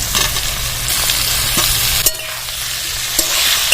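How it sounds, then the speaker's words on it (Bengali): Green banana and vegetables for a Bengali shukto fry in a pan, a steady close sizzle with scraping stir strokes and a few sharp utensil knocks throughout. "এবার কাঁচকলা দিয়ে ভেজে নেবো"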